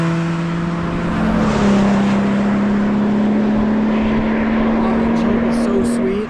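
A 1980 Mazda RX7 rotary engine revs hard while driving, a loud steady drone that climbs to a high pitch and holds near 6,500 RPM, with road noise and a brief voice near the end.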